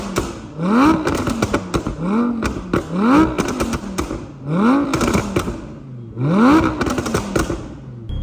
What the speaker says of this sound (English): We'll have some pops and crackles.